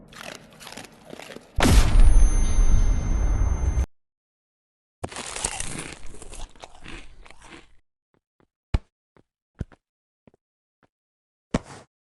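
Eating a pink MRE in the VR game Animal Company produces a loud burst of crunchy chewing and biting for about two seconds, then a softer crunching stretch and a few sharp isolated clicks afterward.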